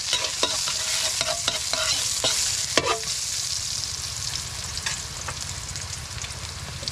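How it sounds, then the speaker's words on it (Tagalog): Mushrooms sauté in a pan with onion and pepper. A dense sizzle runs throughout, and a burst of clattering utensil stirs comes early before the frying settles into a continuous hiss. "Ganyan po pagluluto ng kabuti."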